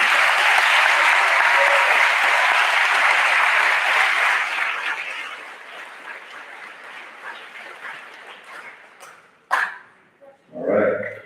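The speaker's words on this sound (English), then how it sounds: "Let's give them a great round of applause" An audience applauds graduating eighth-grade students at a junior high ceremony, with loud sustained clapping for several seconds that thins out to scattered claps. A few short voice sounds follow near the end.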